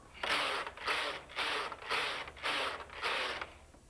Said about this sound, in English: knit and get yourself 10 rows on the machine